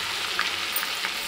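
Tamarind pulp stirred into ginger paste in a pan, a steady close hiss of frying and sizzling with faint stirring scrapes, no voices.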